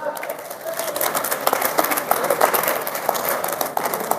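Audience at a Hindi-language speech breaks into sustained, dense clapping that carries evenly for about four seconds, with some voices mixed into the crowd noise.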